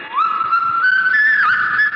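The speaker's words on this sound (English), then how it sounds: "Somebody's whistling. It's Yankee Doodle." A single person whistles a bright melody, apparently Yankee Doodle, in one sustained clear line with small pitch steps, close and fairly loud, with no talk.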